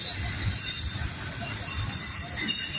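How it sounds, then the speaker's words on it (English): A US Air Force military train rolls past on the tracks, its wheels giving a sustained high metallic squeal over a low rumble of cars, fairly close and heard alone. "This is a military or government train."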